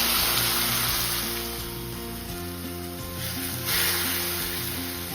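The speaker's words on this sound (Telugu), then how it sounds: "వెల్లుల్లిపాయలు వేగిన నెయ్యిలోనే మనం ఇప్పుడు టమాటోలు వేసుకుందాం." Tomatoes fry in ghee with garlic in a pan, a close, steady crackling sizzle with a faint high hiss and occasional soft stirring shifts.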